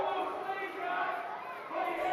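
Spectators cheering and shouting at a jousting show during a Celtic festival, a steady, fairly distant roar that swells again near the end.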